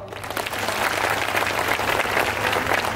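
A crowd at a motivational speech in Utnoor claps together, a dense, fairly loud burst of many hands that swells in and holds steady to the end.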